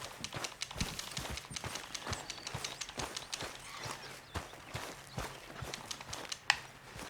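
Hooves of a horse clip-clopping at a walk in the Red Dead Redemption 2 open-world western game, a steady run of hoofbeats close by over faint game ambience, with no talking.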